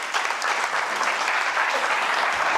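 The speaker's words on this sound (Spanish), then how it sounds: "démosle un fuerte aplauso" An audience gives dense, sustained applause throughout, with steady clapping from a seated crowd at a talk and no voices standing out.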